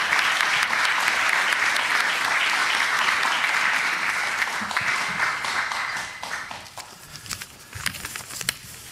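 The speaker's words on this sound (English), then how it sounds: "please join me in welcoming tonight's guests with a warm round of applause" A dense, sustained round of audience applause welcoming guests at a Harvard event with Taipei's mayor, steady and full at first, then thinning into scattered individual claps toward the end.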